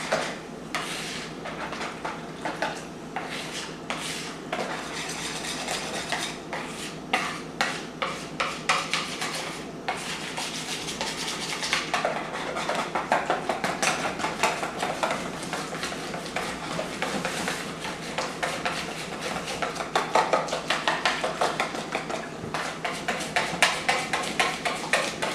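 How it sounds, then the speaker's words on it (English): Navy bean pie filling being mixed by hand in a bowl, a steady run of rhythmic scraping and clinking strokes close by that grow slightly busier toward the end. "I'm going to mix that up"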